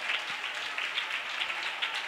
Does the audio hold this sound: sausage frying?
no